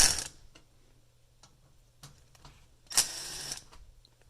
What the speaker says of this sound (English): remove these screws.